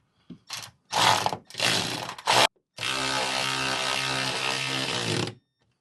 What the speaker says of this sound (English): Get your ratcheting wrench and tighten down.